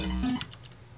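Lo-fi 8-bit bytebeat music generated on a computer from a one-line formula, steady buzzy tones with a low drone and short chirping blips, loud and alone.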